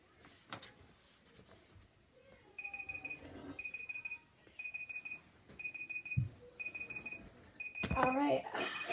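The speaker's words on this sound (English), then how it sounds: "I think the timer is done." A timer alarm rings during a blindfolded drawing challenge: a series of evenly spaced high electronic beep bursts repeating about every second, fairly faint, with scattered rustles and handling noises around it.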